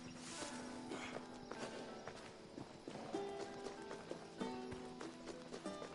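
Quiet horse hoofbeats in Assassin's Creed Odyssey clop along unevenly, mixed with game sound effects and faint tonal music in the background.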